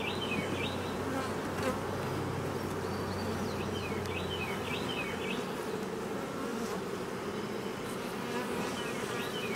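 Honey bees buzz around a hive in a constant, close swarm drone, with individual bees whining past now and then over the steady hum.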